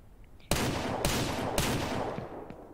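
Three loud, sharp gunshots from the video game Ranch Simulator, about half a second apart, each trailing into a long booming echo that keeps the background roaring.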